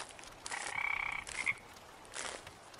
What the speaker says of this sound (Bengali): শুধু একটানা শোনা যাচ্ছে ব্যাঙের ডাক।